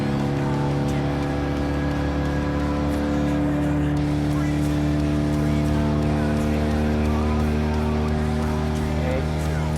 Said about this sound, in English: But this race is a parade of Fiat 500F.